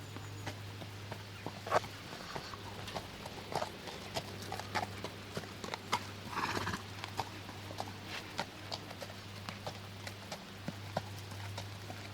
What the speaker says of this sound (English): The girls have arrived and are putting the horses out.